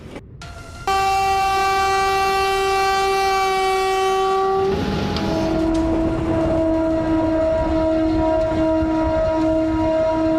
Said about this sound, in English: Never before has a collision between a train and an animal been so brutal.